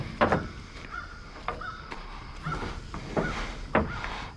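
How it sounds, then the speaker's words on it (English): Crows caw repeatedly outdoors, several harsh calls spaced about every half second to second over a steady background hiss, fairly close. "My crow buddies."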